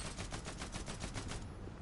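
Rapid automatic gunfire from a weapon in a video game rattles in a fast, even burst that lasts about a second and a half before cutting off, loud and alone.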